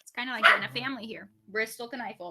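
A dog barks and yips in short bursts close by, mixed in with a person talking over it.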